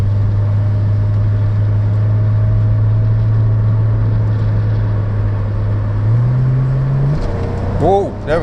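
A Rover car engine drones steadily from inside the cabin, its low hum rising in pitch as the throttle opens and the car picks up speed, with a brief voice near the end.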